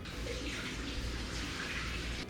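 Pastrami brine liquid poured out and running down a sink drain in a steady, soft splashing stream for a couple of seconds, heard alone without talk.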